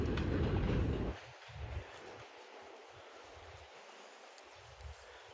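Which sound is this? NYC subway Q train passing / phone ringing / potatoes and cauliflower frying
NYC subway Q train passing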